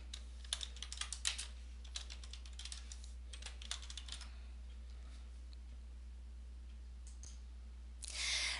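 Typing on a computer keyboard while filling in form fields, quiet clusters of key clicks in short bursts with pauses between, over a low steady hum.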